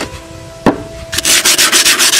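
Sandpaper rubbing over dry soft red brick for a decorative fireplace or stove overlay, a sharp knock first, then a run of rhythmic, close, loud abrasive scraping strokes.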